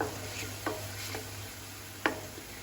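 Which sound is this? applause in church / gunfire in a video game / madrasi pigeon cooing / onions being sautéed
onions being sautéed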